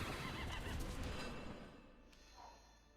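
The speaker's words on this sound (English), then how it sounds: "Wow. All these horses." Horses neigh and whinny over a dense wash of game noise in Mono Primal, loud at first and then fading, with a brief call near the end.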